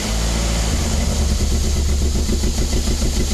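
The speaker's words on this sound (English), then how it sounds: "we're just starting the car" A car engine cranks and catches, then settles into a rough, loud idle with a low throbbing rumble.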